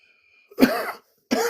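Two close coughs, the first longer and rougher, separated by a short silence.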